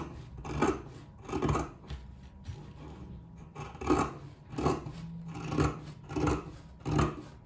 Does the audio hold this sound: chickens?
no